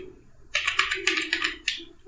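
Fingers typing on a computer keyboard, a quick burst of about eight clicky keystrokes close up, alone over a faint steady hum.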